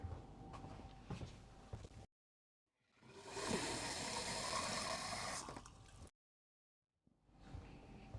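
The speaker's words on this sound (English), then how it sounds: "Gotta walk back here and fill up the jar." Tap water runs into a jar for rinsing paintbrushes, a steady rushing pour lasting a few seconds between quiet gaps, with footsteps and room noise before and after.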